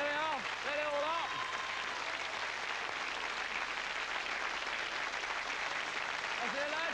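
A studio audience on the Strike It Lucky game show applauds the Army lads, a steady, full wash of clapping throughout, with a voice talking over it at the start and end.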